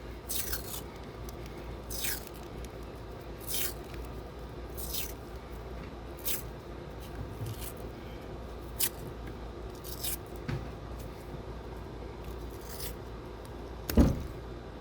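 Tape being pulled and wrapped around convolute wiring loom while working on the blower motor resistor of a Ford Powerstroke diesel, a series of short, sharp ripping and crinkling bursts at an uneven pace, close and with no talking.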